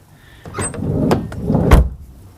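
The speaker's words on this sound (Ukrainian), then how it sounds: "Ну, ось дверка тут так закривається." The sliding side door of a 1996 Fiat Ducato van slides and shuts with a clunk, preceded by rattling and scraping as it moves along and catches, close to the microphone.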